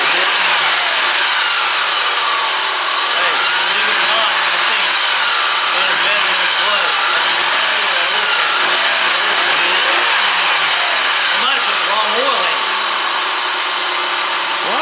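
Dodge Stratus engine revved repeatedly after an oil change, close and loud, with rising and falling throttle surges over a constant hum of workshop noise.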